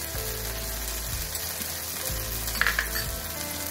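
Spices with turmeric fry in a pan, a loud continuous sizzle close up, joined by occasional soft stirring bumps and a brief bright crackle partway through.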